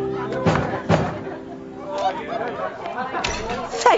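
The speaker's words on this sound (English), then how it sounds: "so I decided to knock." Two sharp knocks on a door in an animated children's Paddington Bear story, separated by a short gap, with voices murmuring in the background.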